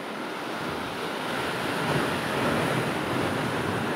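Sea waves wash continuously onto the shore at Velneshwar beach in Konkan, a loud, broad roar of surf mixed with wind buffeting the microphone, with no voices.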